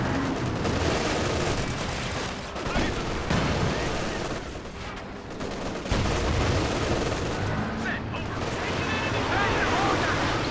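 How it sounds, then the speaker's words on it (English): Werfer rocket barrage in Company of Heroes 2: dense, continuous roaring explosions and crackling impacts fill the scene, loud and close, with battle noise throughout. "What a crazy Werfer barrage."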